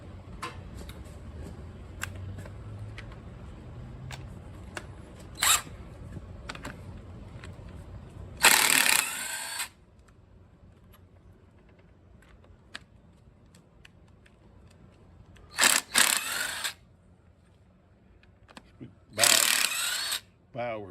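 An impact wrench removes head bolts on a Massey Ferguson tractor in three loud, short rattling bursts, the first lasting about a second. Quiet shop clicks fill the gaps between bursts.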